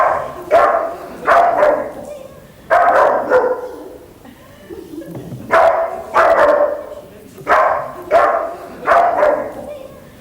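A Labrador barks in repeated loud bursts of two or three sharp barks, close by, with short pauses between volleys and a person talking over them.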